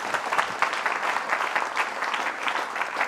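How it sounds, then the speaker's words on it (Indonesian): A room full of people claps together, a steady, dense patter of hands lasting a few seconds at moderate volume. "Tepuk tangan buat Dinar, Bapak Ibu."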